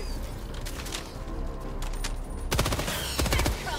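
Machine gun firing in Helldivers 2, sustained bursts of rapid automatic shots with scattered distant gunfire and a heavier, louder volley in the final second.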